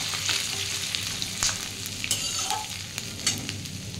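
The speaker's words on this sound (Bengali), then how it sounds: "দিয়ে আমি একটু আদাটা সামান্য ভেজে নেব।" Grated ginger frying in hot oil in a pan for oats khichuri, a soft continuous sizzle with occasional scraping stirs and small clinks, close and steady.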